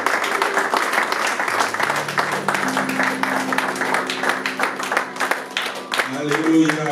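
A church congregation claps and cheers together in praise of God, with sustained applause filling the hall while a voice and sung tones carry over it, rising into a brief chorus at the end.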